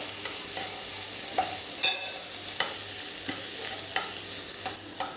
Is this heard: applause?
no